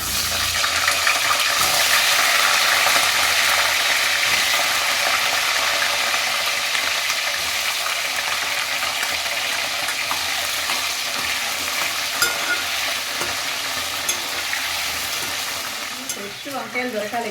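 Eggplants fry in a pan in a loud, continuous sizzle that stays dense and steady, easing slightly toward the end with a few stirring scrapes.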